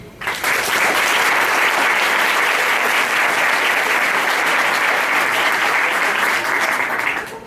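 An audience at a lecture on embryonic development gives a full, steady round of applause for the speaker, dense and close, rising quickly and tapering off after about seven seconds.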